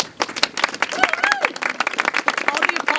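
Crowd applauding at a library grand opening, brisk irregular hand claps from a nearby group, with voices and excited chatter mixed in.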